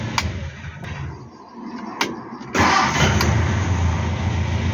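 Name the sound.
Hillman Super Minx engine starting with new electronic ignition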